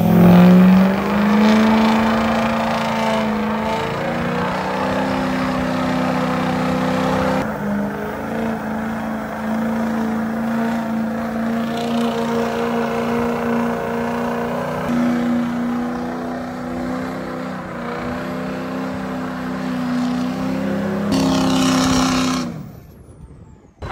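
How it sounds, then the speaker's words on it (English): A 20-inch lifted truck hauling a 40-foot gooseneck trailer accelerates hard with spinning tires, giving a loud, sustained engine drone that holds steady for about twenty seconds before cutting off abruptly. "Dude, I'm ripping these tires off this beat."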